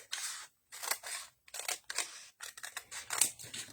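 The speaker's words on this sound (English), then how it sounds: "you can grab your scissors and cut a strip maybe about 1 inch wide" Repeated bursts of scissors snipping through a stiff cardboard strip about 1 inch wide, about a dozen crisp cuts in uneven rhythm with short pauses, close up and quiet.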